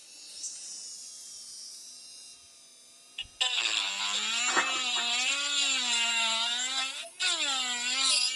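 A Dremel rotary tool spins up loudly partway through, its high, whining motor tone wavering in pitch as it runs against a workpiece, after a quieter stretch of lower hum.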